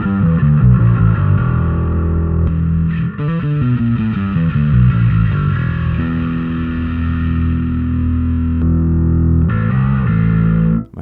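A bass guitar is played through a Darkglass Microtubes Infinity distortion pedal, with loud, gritty, sustained notes and a few shifting tones that change partway through, running continuously to an abrupt stop.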